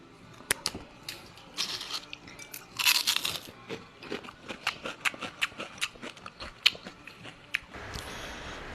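Crunching on crispy fried dried danggit fish while eating, a rapid series of sharp, close, loud bites and chews with no talking.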